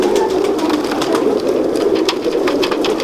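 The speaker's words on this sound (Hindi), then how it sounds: "ये मैं आपको सरफराज भाई के सलारे गोल्डन कबूतर का शौक करवा रहा हूँ।" A flock of Salare golden breeder pigeons keeps up a dense, close, throaty cooing drone, overlapping calls with faint fluttering flicks on top and no talking.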